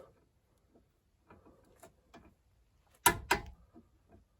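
A torque wrench clicks twice in quick succession as it reaches 52 foot-pounds on a Hyundai Tiburon lower control arm bolt, sharp and close, after a few faint metallic taps.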